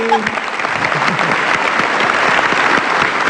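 Loud, dense audience applause at an evening show in Indonesia, steady clapping that fills the whole stretch with a brief voice near the start.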